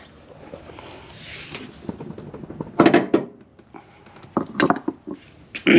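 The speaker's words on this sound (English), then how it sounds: "Now I'm going to loosen the maintenance bolt again and the nut on the tensioner" Metal clinks and thunks of a wrench working the maintenance bolt and tensioner nut on a Honda G23/H22 timing belt tensioner, several sharp close taps and scrapes coming in irregular bursts, loudest around the middle and end.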